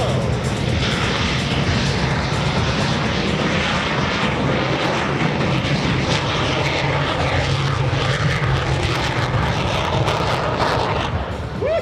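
The Aftershock jet-powered fire truck, rated at 24,000 horsepower, accelerates down an airshow runway at a military base with a loud, continuous roaring jet blast that stays steady and dominant, with only faint voices beneath it.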